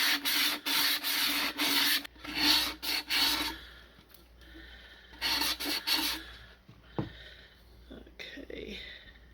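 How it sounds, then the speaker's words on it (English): A sanding block rubs the inside of a resin tumbler in close, quick rasping bursts, several strokes in a row, then pauses with faint movement and a soft voice in the quieter stretch. "take the sanding block and sand the inside"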